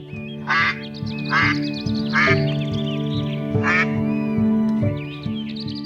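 Cartoon ducks quack in several short, loud bursts over steady background music, with no talking.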